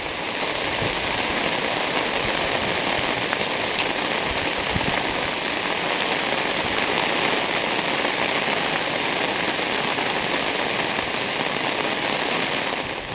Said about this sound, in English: it's storming, it's raining, it's getting cold out here